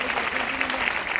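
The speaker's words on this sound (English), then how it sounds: "Give Shirley a big round of applause as well." A short burst of group clapping for an honoree at a gathering, dense and continuous with a faint voice underneath.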